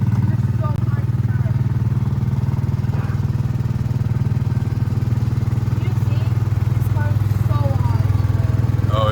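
Antique-style ride car on the King's Mills Antique Autos attraction at Kings Island amusement park, its small engine puttering in a steady, close idle throughout, with faint voices and park noise around it.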